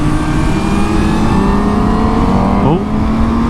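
A 2020 Honda Fireblade SP motorcycle engine revs hard and close, its pitch climbing steadily before a quick blipped gear shift briefly dips the tone, then pulling on again loudly.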